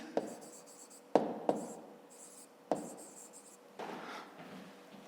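Pen writing on paper during a fifth-grade maths exercise, close and quiet, with a few sharp taps and short scratchy strokes spread across a few seconds and a longer scribbled stretch near the end.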